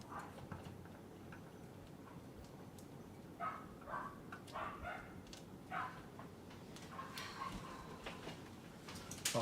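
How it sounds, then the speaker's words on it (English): Dogs barking somewhere away from a home PC repair bench, a run of short muffled barks in the middle and end over a steady low hum, fairly faint and distant. "Fucking dogs."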